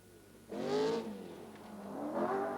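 Rover rally car driven by Tony Pond on a stage, its engine rising in a bright revving howl as it accelerates, easing off briefly, then climbing again, fairly distant and alone.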